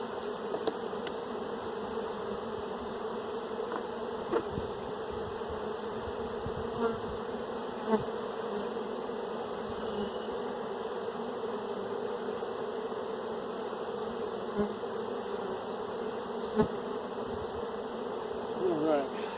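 Honeybees swarm and buzz steadily around an opened hive box during a brood inspection, a dense close drone that holds all the way through with small knocks and rustles from handling.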